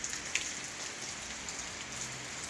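Rain falling at a fish pond where gourami are raised, a steady close hiss of drops with occasional louder taps from drops striking a nearby phone.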